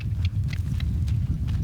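A quarter horse walks under a rider with a steady clip-clop of hooves, soft rhythmic hoof falls over a low rumbling background, fairly close.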